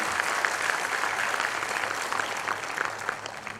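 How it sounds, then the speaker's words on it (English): Listeners at an Ahmedabad lecture on culture and economic development applaud the guest, Dr. Togadia, with a broad, fairly soft patter of many clapping hands that holds steady throughout. "I request all of you to give a big round of applause to today's guest, Dr. Togadia"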